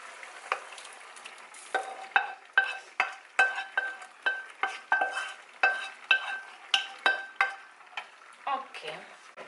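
A spoon stirring ingredients in a pot for risotto gives a steady series of scraping, clinking strokes about every half second, each with a brief sizzle, close by and moderately loud with no talking.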